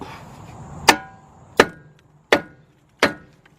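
A hammer strikes the steel axle spindle of a 2001-2004 Hyundai Santa Fe with manual transmission four times, sharp metallic blows spaced under a second apart, close and loud with brief ringing decay.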